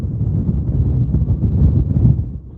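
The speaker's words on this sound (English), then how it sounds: "there was a big gust" Steady roaring wind from a tropical storm buffets the microphone at Simpson Bay, St Martin, swelling into a stronger gust near the end, with a low rumble throughout and no talking.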